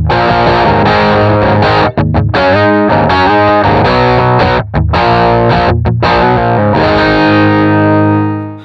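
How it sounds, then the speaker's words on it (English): Distorted electric guitar plays loud, chunky chords and riffs through a Sonicake pedal's Fender Champ speaker impulse, an 8-inch speaker in a very small cabinet, with brief choppy gaps before the final chord rings out and fades. "that's going to give us an IR that is a Fender Champ, so an 8-inch speaker in a really small enclosure"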